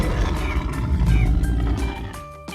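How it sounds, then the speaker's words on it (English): A lion roars, one loud, deep, drawn-out call that swells and then fades, followed by a brief bright tonal chime near the end. "Roar. It's a lion."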